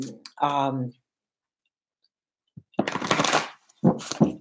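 Tarot cards are shuffled and laid out during a reading, with crisp close card riffles and clicks, and a voice speaks around them.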